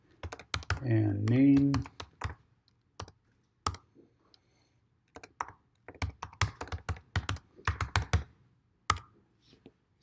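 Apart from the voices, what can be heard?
typing a password on a computer keyboard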